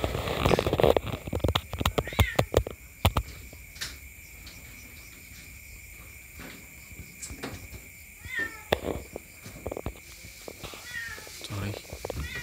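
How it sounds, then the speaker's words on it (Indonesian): Several cats meow in short, repeated cries over a steady chorus of night crickets, with a person talking at times and scattered clicks and knocks nearby. "banyak betul kucingnya ya"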